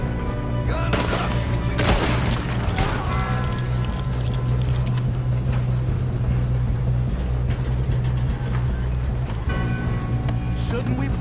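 In Red Dead Redemption 2, gunfire crackles in a dense, continuous stream of shots over a busy background of game noise, with several overlapping volleys.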